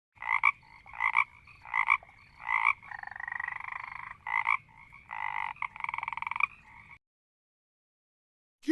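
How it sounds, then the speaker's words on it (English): A frog croaks in a rapid series of loud, raspy, pulsing calls, some short and some drawn out, heard close and alone before falling silent. "Frog."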